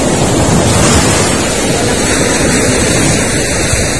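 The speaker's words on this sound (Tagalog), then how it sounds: "Grabe yung alon no." Strong ocean waves crash and roar continuously after a typhoon, with heavy wind buffeting the microphone; the surf is loud and close, a steady wash of noise.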